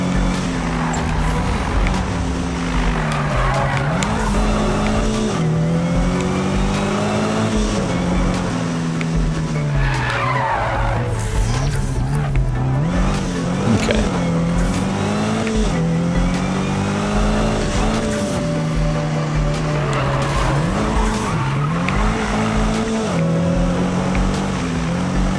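Need for Speed 2015 police chase: a loud, continuous racing engine revs up and down through gear shifts, with bursts of tire squeal as the car slides around corners.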